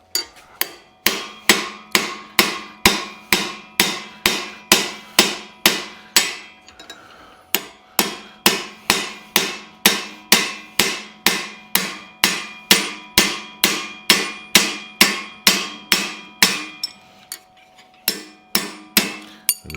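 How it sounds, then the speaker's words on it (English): Steady, regular hammer blows ring out on metal against an anvil-like head while a round part for a 1941 Mercury's steering is flattened, the sharp strikes close and loud with a brief pause midway. "So when you hammer on it, it's meant to put the force of the blow down."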